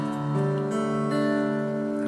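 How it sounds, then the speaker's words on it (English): An acoustic guitar in drop D tuning rings out with a single sustained strummed chord, steady and fairly soft, holding its tone throughout without talk. "So if you're in drop D tuning, your guitar should sound, after you tuned it, you should sound something like this."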